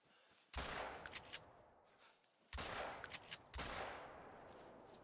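Shotgun fire in the hunting game theHunter on Layton Lakes: three sharp, booming shots spaced about two seconds and one second apart, each trailing off in a long reverberant decay with small clicks between, fairly faint overall and without talk.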